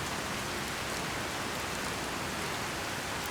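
Steady rain in the game Skyrim, a dense, even hiss of falling rain that fills the clip without a break or any voices.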